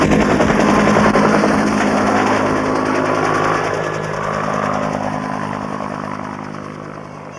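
A loud helicopter on the ground at Ben Het drones close by with steady thumping rotor noise and a whining engine, easing slightly in volume toward the end.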